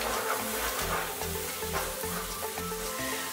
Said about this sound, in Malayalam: റോസ്റ്റ് ചെയ്ത് വെച്ച ബദാമും അണ്ടിപ്പരിപ്പും കിസ്മിസും ഇട്ട് നന്നായിട്ട് മിക്സ് ചെയ്തിട്ടുണ്ട്.